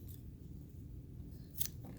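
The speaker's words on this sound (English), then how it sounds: "I'm just gonna cut this" Scissors snip through crochet yarn during a bikini-bottom project, a quiet close cut near the end over a low room murmur.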